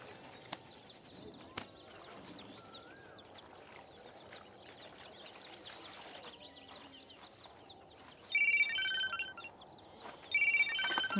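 An electronic phone ringtone sounds twice near the end in short melodic bursts, over a background of clucking fowl and chirping birds.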